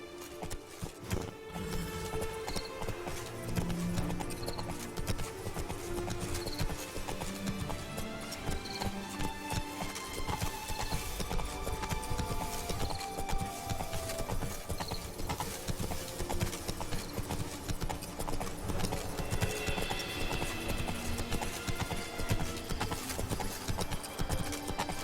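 Horse hooves clip-clop steadily at a gallop in The Witcher 3: Blood and Wine, a continuous rhythmic beat close by over game ambience and music, with an occasional neigh.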